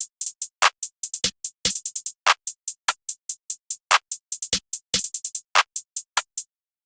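Snare 0, a rim-like snare drum sample in FL Studio, plays a fast, tight trap pattern of sharp, clicky hits with quick stutters and rolls, dry and alone until it stops.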